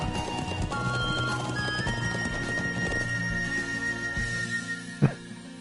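A horse gallops in the video game Trails of Cold Steel, with steady rapid clip-clop hoofbeats and a whinny over continuous game music, ending in a sharp thump.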